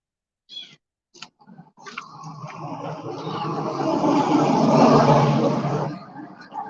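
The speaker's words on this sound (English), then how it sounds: "Kitty, kitty, meow, meow." Kittens crying from inside a bush outdoors: a few short mews, then a long, loud, drawn-out wail that swells and fades, close by, with no speech.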